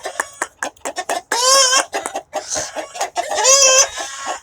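A rooster crows loudly and close, two long harmonic calls broken up by short clucks and cackles from chickens, with no talk over it.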